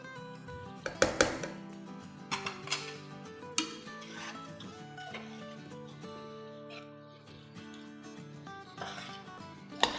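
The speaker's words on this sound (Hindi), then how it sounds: "अब इसकी अच्छी सी भुनाई करते हैं।" Sooji halwa, semolina being roasted in a pot over medium-high flame, with a spoon scraping and clanking against the metal in irregular bursts, close and moderately loud, with a low hum underneath.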